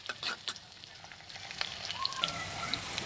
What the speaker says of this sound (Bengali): এখানে দুটি পেঁয়াজ কেটে এবং তেল দিয়ে দিলাম একটু ভালো করে বাদামি করে নিচ্ছি